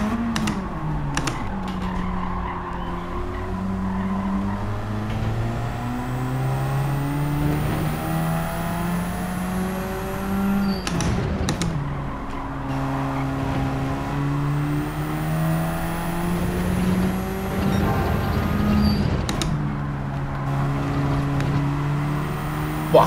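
Race car engines roar and rise in pitch through gear changes in the Gran Turismo 7 game, loud and steady, with several cars passing and some scraping or contact noise.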